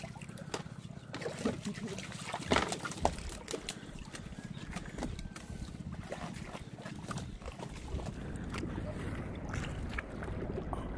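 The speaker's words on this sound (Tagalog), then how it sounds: "Nandiyan na yung malalaking alon." Big waves wash and slap around a small boat at sea, with choppy splashing, rushing water and wind blowing steadily throughout, and voices are faintly audible in the background.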